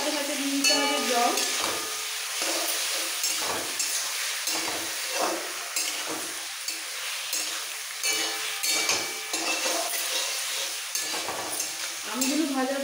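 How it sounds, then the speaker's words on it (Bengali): Green mango pieces stirred in hot oil with salt and turmeric for a chutney, with a steady sizzling fry and repeated scraping strokes of a spatula in the pan, close and fairly loud. "জাস্ট তেলে মিক্স করে নুন হলুদের সাথে দিয়ে দিচ্ছে 1 কাপ জল"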